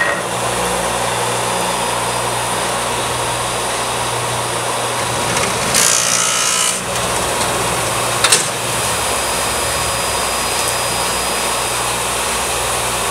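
A Bourg BB2000 binding machine runs its cycle with a steady mechanical hum and motor drone, broken by a burst of clamping noise near the middle and a short clunk later, with no voices.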